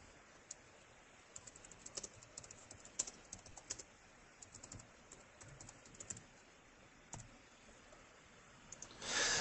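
Typing a short note on a computer keyboard, bursts of quiet close key clicks with brief pauses between words, faint overall, ending in a louder rush of noise.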